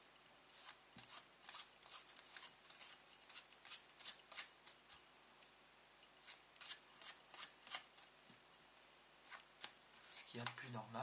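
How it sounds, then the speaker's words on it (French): A deck of playing cards is shuffled by hand during a card magic trick, giving a run of crisp riffling bursts with short pauses between them, close and moderately quiet. "je vais mélanger le jeu"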